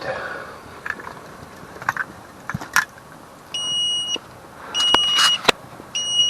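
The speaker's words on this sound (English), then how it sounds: "Okay, we're getting an alarm here." A high-pitched electronic overheating alarm beeps in short repeated bursts inside a heated tent amid kitchen clatter and scattered clicks, fairly loud and close.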